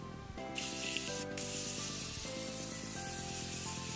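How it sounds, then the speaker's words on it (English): A few short hissing bursts of setting spray onto a face, close by, over steady background music. "I'm going to use the Morphe Continuous Setting Spray"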